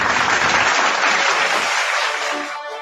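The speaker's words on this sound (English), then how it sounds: "a round of applause for our speaker" An audience applauds a speaker at a professional talk on workforce planning, a dense burst of clapping that holds steady, then thins and fades toward the end.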